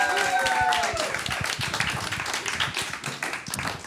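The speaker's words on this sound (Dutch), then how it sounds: "Geef die een enorm applaus als ze hier naar voren komen" A live theatre audience at a Broadway-style stage show claps and cheers as performers come forward, dense applause with a tonal whoop at first, thinning toward the end as voices rise over it.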